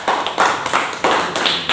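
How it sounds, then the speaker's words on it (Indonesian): Meeting participants at a regional innovation socialization session clap together on request, producing dense, sustained applause in several surging waves over nearly two seconds, fairly close and loud with no talk over it. "Boleh Bapak Ibu semuanya tepuk tangan dulu untuk hari ini."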